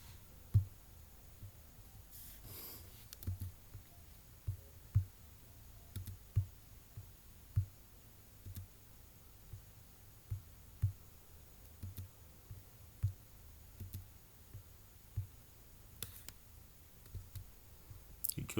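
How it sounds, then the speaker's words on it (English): Computer mouse clicked repeatedly while tagging Facebook friends, giving sharp, faint clicks at an irregular pace of roughly one per second over a quiet room hum. "Keep on clicking"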